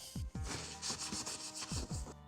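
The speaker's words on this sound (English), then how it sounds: "Little bit of sanding" Quick, rhythmic back-and-forth sanding strokes rasp across a part during a Mercedes-Benz 190E W201 build, close up and fairly loud, about ten strokes in a row.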